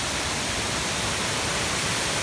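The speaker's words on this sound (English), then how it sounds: "Here's our first waterfall." A high-running waterfall in Pisgah National Forest roars as a dense, unbroken wash of rushing water on an evening mountain hike, loud and close with no voices.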